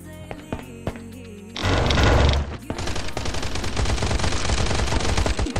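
Gunfire in the survival game Last Island of Survival, where several players open fire together: a dense burst of loud, close shots swells into rapid, continuous automatic fire that keeps going to the end.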